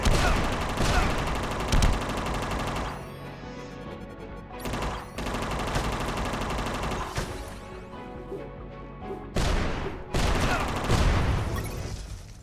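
Bursts of rapid machine gun fire in a video game boss fight against sandbag cover, loud and close, with crashing impacts and brief pauses between volleys, and a little speech now and then.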